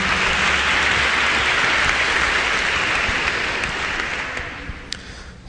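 Church congregation applauding loudly and steadily, a dense wash of many hands clapping that holds for several seconds before easing slightly toward the end.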